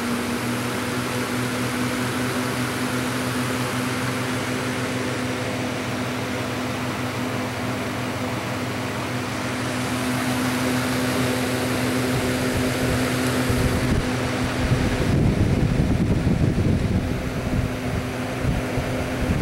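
Several 10-inch box fans run together on high, one of them a Windmere that rattles: a steady whirring hum with a constant motor drone, growing slightly louder and rougher with rattling toward the end.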